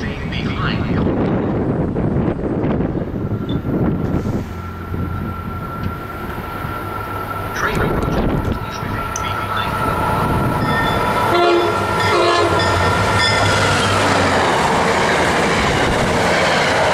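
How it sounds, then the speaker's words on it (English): A commuter train approaches and passes the Readville station platform during the Friday evening rush, with a loud blaring horn, rumbling wheels and clatter growing close, while an automated announcement plays over the scene. "Train approaching. Please remain behind yellow line."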